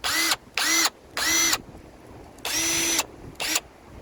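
A Baur 20 volt cordless one-speed drill runs in five close bursts of motor whine that start and stop sharply, with short gaps between them and nobody speaking.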